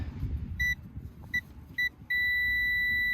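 Multimeter continuity tester beeping on a dumper's starter circuit: three short tonal beeps, then a sustained steady beep as contact holds, close by over low background rumble, no talk.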